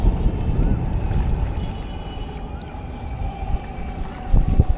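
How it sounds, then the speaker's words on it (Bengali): Strong wind buffets a small boat out on the water in cloudy weather, giving a loud, rough, fluctuating rumble with occasional heavier gusts near the end. "মেঘ মেঘ ভাব, প্রচুর বাতাস।"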